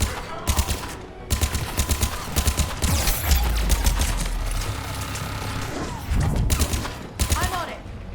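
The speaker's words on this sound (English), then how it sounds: "Damn, there's a turret up ahead." An enemy turret in the video game Mass Effect 3 firing rapid bursts of automatic gunfire, loud and close, with short pauses between volleys and mechanical clatter around them.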